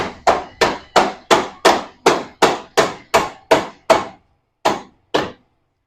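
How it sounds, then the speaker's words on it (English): A rubber mallet strikes repeatedly during a 1997 Evo motorcycle engine rebuild, about a dozen sharp, evenly spaced blows close to the listener, then a short pause and two final knocks, with no talk. "rubber mallet."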